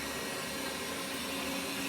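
Running vacuum cleaner giving a steady, loud, unbroken motor whine and airflow roar, heard alone with no voices.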